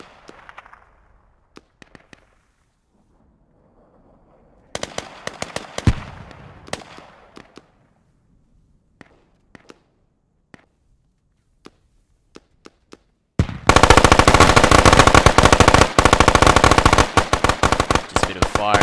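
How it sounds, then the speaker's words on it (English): Gunfire exchange in a video game: scattered single shots at first, then a loud, dense burst of rapid automatic fire near the end. "Just a bit of fire exchange there from SRR's Omega 1 on Omnion."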